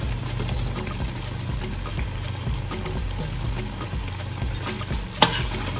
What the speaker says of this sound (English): And stir this up. Make sure this is mixed all together.